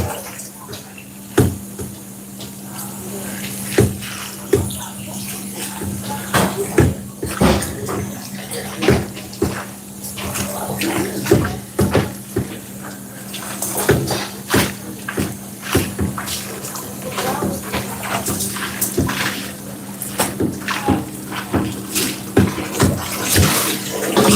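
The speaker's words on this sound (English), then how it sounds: "now that we give our bok choy a bath, we're gonna let that soak away a little bit in that cold water" Water running steadily while bok choy is washed in cold water in a commercial kitchen, with splashing and knocks throughout and a low steady hum underneath.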